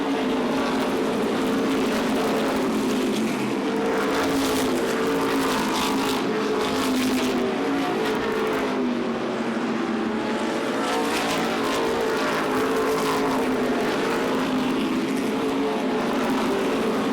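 NASCAR Modified race cars roaring around Beech Ridge Motor Speedway, a continuous loud engine drone that swells and fades as the pack passes, with no voices.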